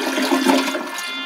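A household toilet flushes with a loud, close rush of swirling water that fills the whole moment, with no talking over it.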